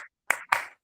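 Two sharp hand claps in quick succession, close and dry, with the tail of an earlier clap at the start, part of a counted clapping demonstration.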